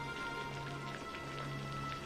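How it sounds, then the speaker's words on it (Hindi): Heavy rain falls on a cold village, a soft, steady hiss of drops that stays faint and even over a low background hum. "यह बारिश तो अभी तक रुकी भी नहीं है"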